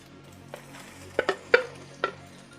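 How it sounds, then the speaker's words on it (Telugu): Pre-boiled tomatoes for a tomato onion curry go into a hot pan, giving a faint sizzle broken by several sharp stirring clinks of a utensil against the pan, close and quiet. "ఇప్పుడు దీనిలో మనం ముందుగా ఉడికించి పెట్టుకున్న టమాటాలను వేసుకోవాలండి."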